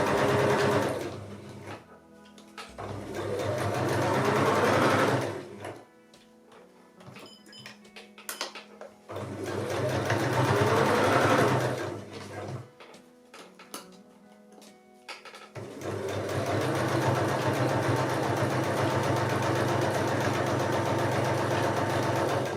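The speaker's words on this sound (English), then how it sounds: "So now let's sew this together." Sewing machine stitching the side seams of a skirt: three long bursts of rapid, even mechanical whirring, separated by quieter pauses with faint ticking and handling noise, close and alone.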